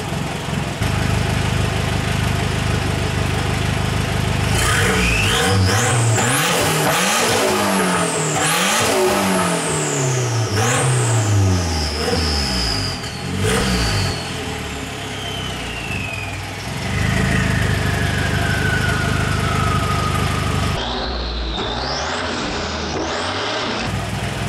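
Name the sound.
Nissan GA16DET car engine revving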